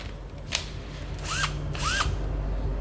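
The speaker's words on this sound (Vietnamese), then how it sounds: "Cây búa dầu của thằng Hitachi." A Hitachi cordless oil-pulse impact driver whirs in short bursts, two rising pulses with a smooth hum between, close and fairly loud with no talk.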